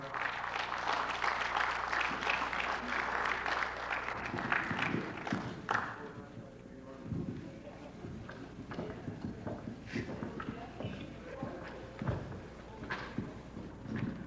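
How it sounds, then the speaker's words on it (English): A crowd at a concert for Emancipation claps in sustained applause, dense and loud at first, then thinning into scattered claps and noise. "Let's get a round of applause, please, for Hamidullah"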